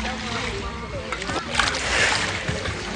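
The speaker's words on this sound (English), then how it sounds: "I'm gonna go underwater." A person goes underwater, stirring up water with sloshing and splashing that swirls close by, while a voice talks over the watery movement.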